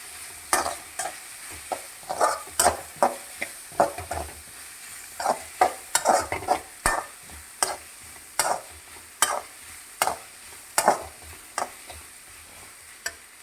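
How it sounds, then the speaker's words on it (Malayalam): Ginger and garlic sautéing in a pan for a curry, with sharp, repeated spatula strikes and scrapes against the pan over a soft, continuous sizzle, close by with no speech. "ഇഞ്ചി വെളുത്തുള്ളി ചേർത്ത് നന്നായിട്ട് വാട്ടി കൊടുക്കുക"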